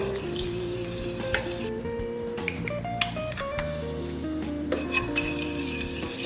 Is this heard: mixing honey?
yes